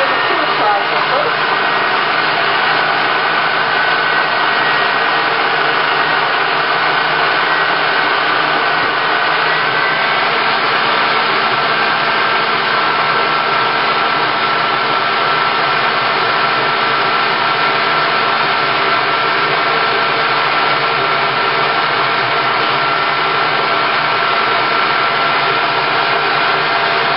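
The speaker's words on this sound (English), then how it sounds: "And I'm going to put it in the food processor." Loud, steady motor whir of a food processor blending two bananas into mush, running without a break for the whole stretch.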